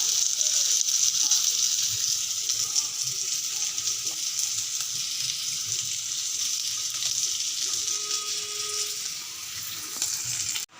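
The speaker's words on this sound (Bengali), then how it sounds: "এই যে কাঁকরোল ভাজা বসিয়েছি, কাঁকরোল ভাজা করবো এখন।" Slices of spiny gourd sizzle in hot oil in a pan, a continuous close, bright frying hiss that runs steadily throughout with occasional faint kitchen clinks.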